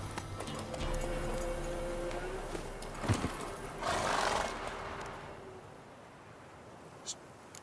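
A horse in The Witcher 3 whinnies and snorts as hooves clip-clop beneath it, a mid-level animal sound with a brief louder snort burst partway through.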